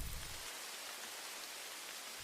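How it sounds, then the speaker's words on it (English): Steady rain pours down as a radio drama sound effect, a dense, even hiss of falling water that stays constant throughout, with a deeper rumble at the very start. "the rain began."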